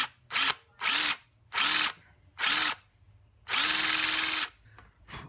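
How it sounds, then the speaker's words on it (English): Short bursts of a power drill bit boring into a stripped Torx bolt on a carbon fibre bike tube, about six loud whirring pulses with brief pauses, the last one held longer. "this drill bit is working way better than anything I've used so far"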